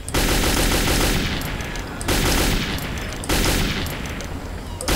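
An AK assault rifle fires in the video game Metro 2033 in three loud, rapid automatic bursts, each a dense rattle of shots lasting over a second, close and dominant.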